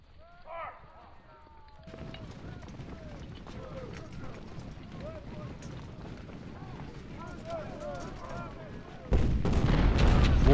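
Cannons firing in the Civil War strategy game Ultimate General: Civil War, scattered booms among battlefield clatter and hooves that swell into a heavy, loud barrage near the end.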